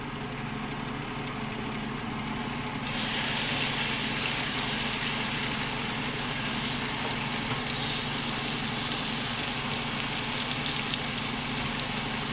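Beef liver fries in a little oil in a pan, giving a steady, broadband sizzle that holds level throughout and brightens slightly after the first few seconds.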